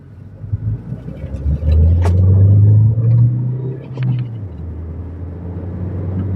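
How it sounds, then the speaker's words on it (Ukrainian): A 2015–2016 Renault Espace V on the road accelerating, its engine a loud low rumble that swells and pulls for a few seconds, then eases off to a steadier drone, with no talk over it. "І от набирає швидкість, ну соточку він легенько йде."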